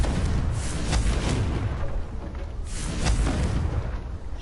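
A Confringo spell exploding in Hogwarts Legacy, two heavy booming blasts about two seconds apart, each with a crackling burst over a sustained rumble.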